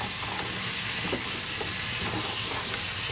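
Crab curry sizzles hard in a hot pan after tamarind water goes in, a dense, steady frying hiss with faint scrapes of stirring throughout and no one talking.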